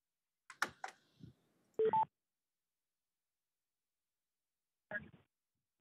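Telephone keypad tones dialing a call-in number for a city council meeting, a few short separate beeps with quiet gaps between them and a faint voice early on.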